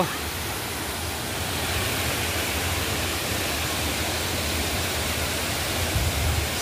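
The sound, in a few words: Situbo Falls waterfall, Tampilisan, Zamboanga del Norte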